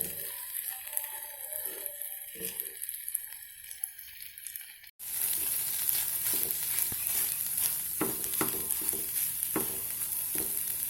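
Egg cooks in a pan on a low flame with soft spatula scrapes and gentle sizzling at first, then a sudden louder, steady frying hiss with repeated stirring clicks close by.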